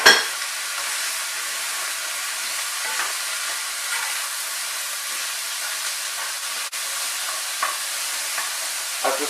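Mirepoix vegetables sizzle in a pan over high heat for a creamy Tuscan-style chicken dish, a loud steady hiss with occasional soft stirring clicks.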